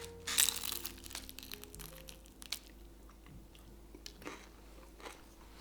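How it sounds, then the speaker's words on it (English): Someone bites into a crunchy gluten-free pastry stuffed with melted chocolate: a sharp close crunch, followed by quiet, irregular chewing and crackling with light rustles. "The pastry's quite crunchy, but chewy at the same time."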